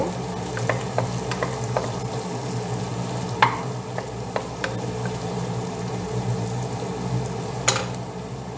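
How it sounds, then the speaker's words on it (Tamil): Sliced green chillies and onions fry in hot oil, a continuous crackling sizzle punctuated by sharp ladle taps and scrapes against the pan, close and fairly loud. "இது கொஞ்சம் நல்லா வதங்கட்டும்"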